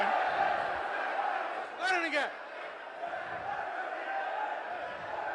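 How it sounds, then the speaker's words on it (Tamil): Opposition members shout together in a Tamil Nadu state assembly, a loud burst of raised voices rising briefly over a steady murmur of crowd noise in a large hall. "எதிர்கட்சியினர் எவ்வளவுதான் கூச்சல் போட்டாலும்"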